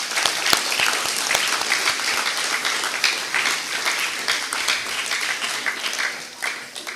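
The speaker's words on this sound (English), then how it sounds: "Please, let us give the principal, teachers, and all of his staff another round of applause." A crowd at an 8th-grade graduation ceremony in Pohnpei gives sustained applause, thick overlapping clapping at a steady level that eases slightly toward the close.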